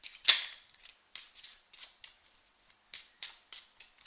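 A deck of playing cards being shuffled by hand during a card trick: a sharp snap, then a string of short, crisp papery riffles in irregular bursts, close and fairly quiet.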